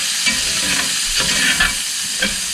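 Mushrooms sautéing in a hot pan give a steady close sizzle broken by occasional stirring scrapes and soft spatula knocks, with no talking over it.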